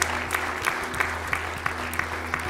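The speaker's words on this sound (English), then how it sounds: "Would you clap your hands and rejoice?" A church congregation clapping hands together, a fairly steady rhythmic beat of many palms with sharper accents every third of a second, sustained over a low hum and faint crowd murmur.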